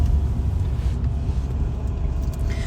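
Car driving on a road during a driving lesson in Sultangazi, recorded from inside the cabin as it shifts into second gear; a steady, loud low engine and road rumble runs continuously with no talk.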